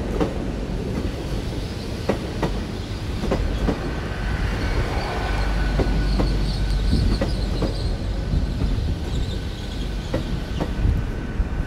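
Inside a 10-coach passenger train bound for Plymouth and Penzance, a loud, constant rumble of wheels on track fills the carriage, with a faint rhythmic clickety-clack of rail joints and no talk.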